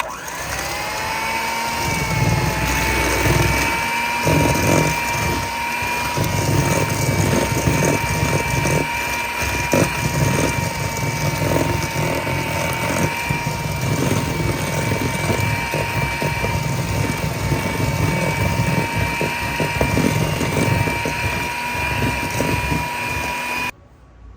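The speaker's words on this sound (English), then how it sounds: "I'm gonna add our sugar. This is about half a cup, 50 grams. And beat those together pretty well." An electric hand mixer beats butter and sugar together for a black sesame banana pie, a steady loud motor whine with a rattling churn that runs without a break and cuts off at the very end.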